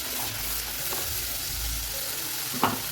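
Ground tomato sautéing in oil in a pan for a Tamil sundakkai kuzhambu, a steady close sizzle with soft stirring scrapes and one brief louder clatter near the end, no voices.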